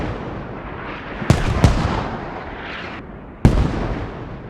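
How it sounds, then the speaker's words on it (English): Mortar rounds fired in the Squad military shooter game land as three heavy booms, two close together and a third after a pause, each with a rumbling tail over low battlefield ambience. "Shoot their main with mortars"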